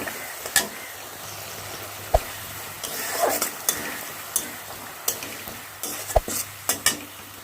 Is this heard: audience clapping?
no